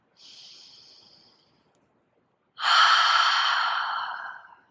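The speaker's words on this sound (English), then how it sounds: "Take a deep inhale through your nose." A deep breath drawn in through the nose during a yoga session, a soft airy inhale followed by a pause and then a louder, fuller breathy exhale, close and with no talking.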